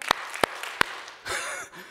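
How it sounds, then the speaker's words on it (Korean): Three sharp, separate claps from a church congregation ring out in an even rhythm, followed by a brief burst of scattered clapping and murmur. "박수 3번 시작."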